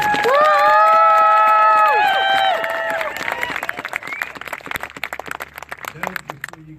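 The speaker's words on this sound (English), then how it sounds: "How about a round of applause for our talented Black Legged?" Crowd at an anti-DAPL march and protest in Oklahoma City cheers and whoops loudly, with sustained tonal shouts and whistles, then breaks into scattered clapping that fades down toward the end.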